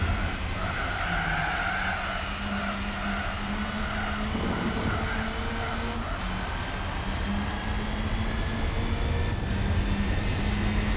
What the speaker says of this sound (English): Nice sound to the engine, I'll give it that.